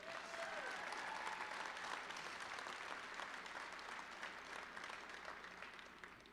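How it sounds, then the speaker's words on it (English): A school promotion audience gives coaches a round of applause, a dense, steady wash of many hands clapping that slowly tapers toward the end, with no talk over it. "Let's give these amazing coaches one more round of applause."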